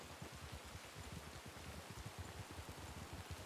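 Rain falls steadily in a Wild West roleplay video game, a soft, faint patter of drops that keeps up an even texture throughout with no voices.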